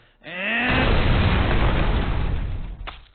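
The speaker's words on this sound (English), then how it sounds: "we see the two finally working on Rick's new invention, only to be blown up in a horrific explosion" A loud cartoon explosion from Rick and Morty bursts in with a rising whoosh, then a sustained roaring boom that slowly fades, with a brief crackle at the end.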